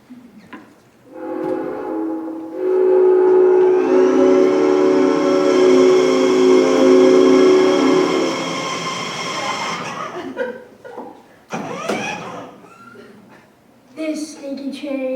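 A loud, sustained steam train whistle blows for several seconds, followed by rail clatter and a voice talking near the end.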